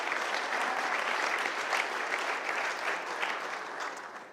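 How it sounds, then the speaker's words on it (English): Sustained applause from an audience at a mayor's State of the City address, a dense, even wash of clapping that holds steady and fades slightly toward the end. "yes, we should clap for that."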